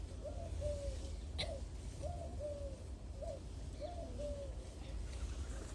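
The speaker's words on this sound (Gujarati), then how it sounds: "પેલા લીમડા હોલી બોલે." A laughing dove calls from a neem tree in a quiet Botad village, its soft cooing phrases repeating about five times at an even pace, faint and distant over low background rumble.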